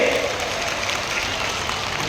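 Dense applause from a large crowd at a political rally with the Chief Minister on stage, a continuous loud wash of clapping filling the whole stretch without a break.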